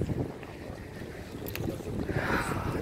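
Cold wind blowing along the seashore in Izmir, Turkey, a steady rushing buffet across the microphone with a low rumble and occasional gusts, close and moderately loud.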